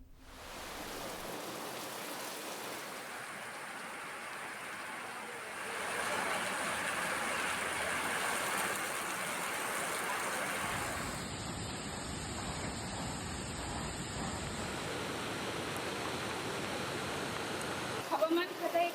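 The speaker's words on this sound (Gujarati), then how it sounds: "હવામાન ખાતાએ કરેલી આગાહી મુજબ ડાંગ જિલ્લામાં મુશળધાર વરસાદ વરસી રહ્યો છે" Torrential afternoon downpour in Ahwa, Dang district, a steady dense hiss of heavy rain that grows louder partway through, with water rushing along roads and no distinct thunder audible.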